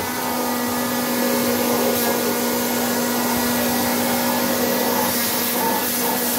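A Bosch AdvancedVac 20 vacuum cleaner runs continuously at close range, a loud steady whirring drone with a constant high whine and no pauses.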